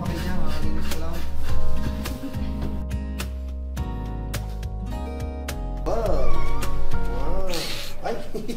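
Many cats meow repeatedly in a house full of cats, with rising and falling mews standing out over background music and people talking nearby.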